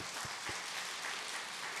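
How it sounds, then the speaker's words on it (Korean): Church congregation applauding together during a worship service, a steady wash of many hands clapping at even loudness for a short burst, heard alone without voices. "우리 하나님께 그 감사와 영광의 박수를 한번 드릴까요?"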